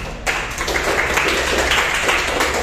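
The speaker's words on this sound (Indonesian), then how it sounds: "kita tepuk tangan dulu untuk pertemuan kita hari ini" A classroom of students clapping together at the end of a school lesson, dense overlapping handclaps starting abruptly and continuing steadily at close range.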